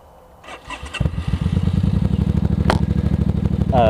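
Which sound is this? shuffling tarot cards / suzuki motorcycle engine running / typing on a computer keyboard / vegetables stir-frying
suzuki motorcycle engine running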